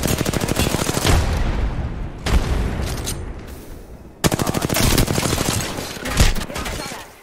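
Rapid automatic gunfire in the shooter game Apex Legends, loud and close, in dense sustained bursts with a short pause midway before the firing resumes just as heavily.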